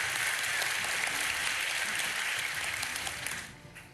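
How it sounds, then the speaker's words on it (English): Audience applause for a panel of speakers at the Perimeter Institute for Theoretical Physics in Ontario, Canada: dense, steady clapping from a sizeable room that holds for several seconds, then thins and fades out near the end. "Please, an applause for all of our panelists."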